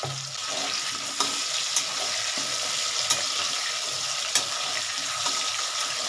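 Potatoes fry lightly with turmeric in a pan, making a steady moderate sizzle with a few sharp clicks and taps from stirring, heard close with no speech.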